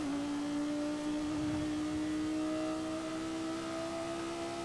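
The Yamaha-tuned V10 of a Lexus LFA in Forza Horizon 5 holds a steady high-pitched wail at sustained revs, smooth and continuous with a slight rise, no speech over it.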